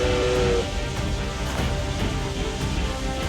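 The Steam Tank Obsidian, a steam-powered war machine in Octopath Traveler II, gives off a loud steamy rumble, opening with a short whistle-like tone before settling into a dense mechanical hiss and churn.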